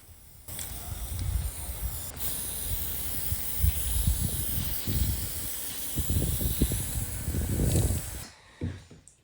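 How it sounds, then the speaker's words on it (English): A steady hiss of spray from a can, running in bursts for several seconds, fairly close, with faint rattles and thumps underneath. "give your kids some spray paint and let them go to town"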